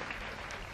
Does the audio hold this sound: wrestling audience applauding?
yes